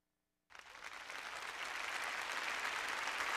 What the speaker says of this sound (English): Round of applause, please, round of applause.